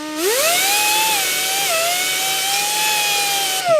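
A power tool whines at a steady high pitch while cleaning rust off the parking brake lever of a 2005 Toyota Corolla, its tone dipping slightly under load before stopping abruptly.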